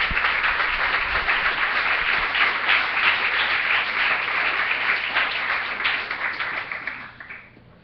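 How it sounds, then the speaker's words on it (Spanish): A church congregation applauds the Lord in a dense, sustained burst of clapping that holds steady, then thins and fades toward the end, heard at moderate distance without speech. "Denle un aplauso al Señor, hermano."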